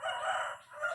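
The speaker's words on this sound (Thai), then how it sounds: "บรรยากาศก็ดีดีพี่น้องนี่ยินเสียงไก่ขันบอ" A rooster crows at a rural duck-raising smallholding, one drawn-out call heard from a distance and fairly faint, with no talking over it.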